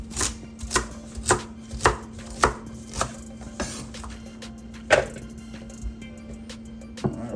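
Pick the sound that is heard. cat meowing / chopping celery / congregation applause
chopping celery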